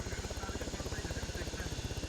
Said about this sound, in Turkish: Helikopter size doğru geliyor.